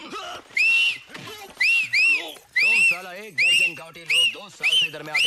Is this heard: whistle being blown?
yes